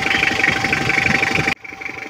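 A Toyota Qualis engine, freshly overhauled, idles with a steady rhythmic chug and pulse, close and loud, then abruptly drops to a quieter rumble partway through.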